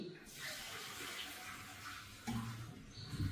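Water is poured out of a pot, a quiet, running splash that turns louder and fuller for the last second.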